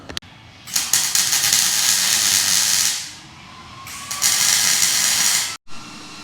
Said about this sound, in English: I'm gonna go ahead and weld all this right now before moving forward to the jack point.